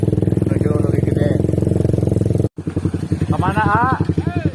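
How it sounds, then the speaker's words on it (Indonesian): Three motorcycles carrying six riders travel along a road, engines droning steadily up close while people talk over the noise, with a brief dropout midway before the engine hum resumes. "3 motor ya, 6 orang nih menuju Lebih Gede."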